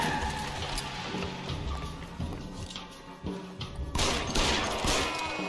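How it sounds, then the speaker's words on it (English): Gunfire in an L.A. Noire shootout, a scatter of sharp shots and crashes over busy game noise, with a louder burst of shots toward the end. "I just shot that guy in the face"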